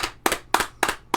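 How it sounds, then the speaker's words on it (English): Hands clap in a slow, even rhythm, four sharp claps about a third of a second apart, near and crisp during a podcast recording. "Let's clap it up for him."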